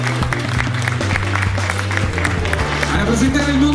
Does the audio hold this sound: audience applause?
yes